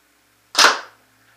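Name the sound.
Proto Matrix Rail paintball marker firing through chronograph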